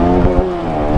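Motorcycles, including a 2015 Bajaj Pulsar RS200, ride along a road in a steady, loud engine drone with a harmonic hum and slight rises in revs, close and continuous with no talk.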